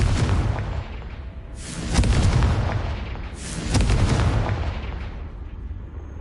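Two heavy Confringo blast-spell explosions in Hogwarts Legacy, each a loud booming burst with a long rumbling decay, the second about two seconds after the first, heard alone without talk.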